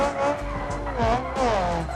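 A drift car in a racing video game slides with sustained tire squeal and skidding over a revving engine, the screech bending in pitch through several rising and falling sweeps, loud and continuous.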